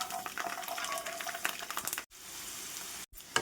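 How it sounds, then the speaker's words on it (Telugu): Garlic frying in heated peanut oil in a pan, a steady close crackling sizzle that cuts out briefly twice, with no talking. "ఇలా వేగితే సరిపోతుంది."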